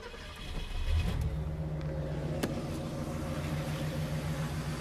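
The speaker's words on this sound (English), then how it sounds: "So this is the 4 Venturi 390. And this one has dual exhaust on it, but quiet." A 1968 Ford 390 V8 with a four-venturi carburetor and dual exhaust idles quietly and smoothly at a steady low rumble, recorded from fairly close.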